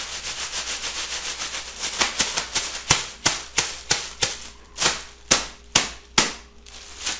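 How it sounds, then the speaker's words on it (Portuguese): A plastic shopping bag played as a musical instrument gives a series of loud, close, sharp crinkling snaps, starting as a rapid rubbing rustle and then settling into separate rhythmic crunches roughly every half second. "A sacola produz vários sons que nós podemos usar como instrumento."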